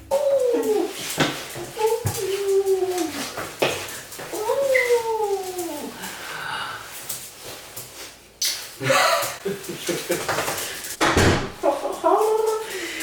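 A dog whimpers and whines in repeated high, wavering cries, close and fairly loud, with short pauses and a few knocks between them.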